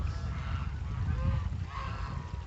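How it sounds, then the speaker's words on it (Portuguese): Goose in a bird enclosure alongside ducks, chickens and turkeys: a single drawn-out honk rises faintly over a murky low outdoor rumble of a flock, with no talk. "Aqui a gente tem um ganso."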